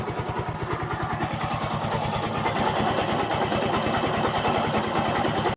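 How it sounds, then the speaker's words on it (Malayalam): A restored Yamaha FZ-S V2 motorcycle idling, a steady close rhythmic engine putter with even pulses throughout and no talk. "എൻജിൻ സൗണ്ട് ഞാൻ കേൾപ്പിച്ചു തരാം."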